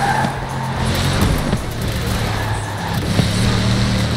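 A Bugatti Veyron races in Forza Horizon 4, its engine droning loudly with low rumbling tones, tire noise and brief skids, close and steady throughout.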